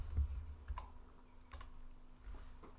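Quick, faint keystrokes on a computer keyboard, a short run of light clicks over a quiet room hum.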